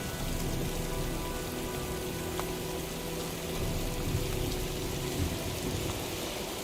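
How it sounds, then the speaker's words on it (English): Heavy rain from a storm in the video game Heavy Rain pours down in a dense, constant hiss, with faint thunder in the background and no talking. "looks like a storm's coming."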